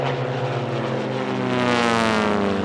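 Racing biplane at a national championship air race, its propeller engine droning loud and steady as it flies past, pitch sliding slightly with a rising buzz toward the end.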